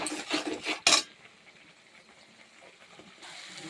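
Spice masala with salt cooks in a pan, opening with a few quick clinks and scrapes of a metal spoon, then settling into a soft, low sizzle.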